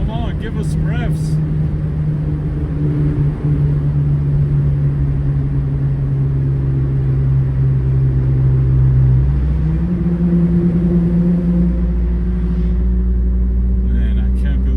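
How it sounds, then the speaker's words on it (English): A car engine holds a loud, steady drone, then its pitch steps up partway through and stays raised, with faint voices in the background. "Give us some revs."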